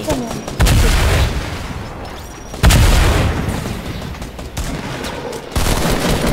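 Gunfire in Fortnite Season 5, loud booming shots arriving in a few heavy bursts with rumbling decay between them, close and dominant, with a voice talking in the background.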